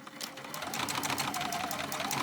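A sewing machine runs a line of top stitching beside a zipper on a purse, giving a fast, steady mechanical rattle that stays close and continuous for the whole stretch.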